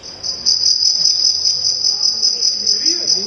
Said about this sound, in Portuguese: Grilo. Muito bom.